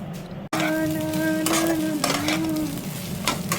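Food frying and being stirred in a pan, a steady close sizzle with scraping stir strokes and a steady tonal hum running through, after a brief sharp break near the start.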